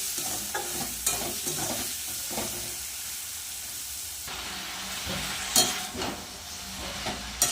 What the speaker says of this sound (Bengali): নুন হলুদ দিয়ে ভালো করে একটু ভেজে নেব চিংড়ি মাছ আর পেঁয়াজটা